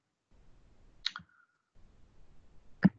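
Two sharp clicks from a computer mouse, a double click near the start and a single louder click near the end, over a faint low background hum.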